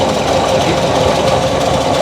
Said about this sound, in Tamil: இப்போ மோரிஸ் மைனர் ஒன்றா நாங்கள் வந்து ஸ்டார்ட் பண்ணி அதை பார்க்க போயிடும்.